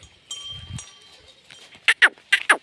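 Young local-breed goat kids bleat in a quick series of four short, loud cries close by near the end, after a quieter stretch of faint farmyard movement.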